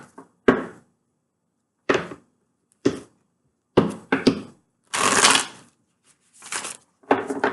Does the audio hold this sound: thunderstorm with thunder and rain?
no